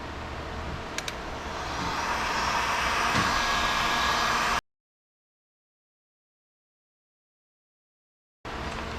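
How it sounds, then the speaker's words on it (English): A heat gun blows hot air while trimming plastic on a Can-Am Maverick R, a steady close whooshing roar with a faint whine that cuts off abruptly into silence and then starts up again. "So we're going to use a heat gun and a razor blade to cut out the rectangle."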